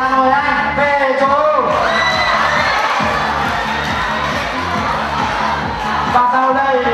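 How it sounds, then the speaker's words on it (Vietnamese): Cheering, whooping and shouting from a crowd of students at an anniversary gathering of a student association, loud and sustained for several seconds with voices over it and a rhythmic thumping beneath. "Xin một tràng vỗ tay và mời anh về chỗ."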